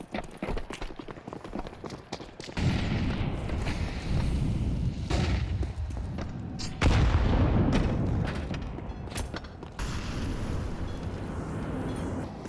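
Pistol gunfire during a pistol round of a competitive Counter-Strike match on the Overpass map, with repeated sharp shots and thuds among busy in-game noise, heard fairly loud throughout.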